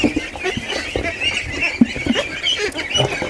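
Ducks eagerly pecking at scattered grain give a steady chatter of nasal quacks and honks, with small clicks of beaks and feed mixed through the noisy, close flock.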